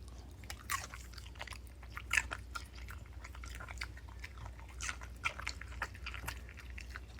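Someone crunches into a raw green pepper outdoors, with repeated sharp bites and moist chewing crunches in an irregular rhythm, close to the microphone and with no talk.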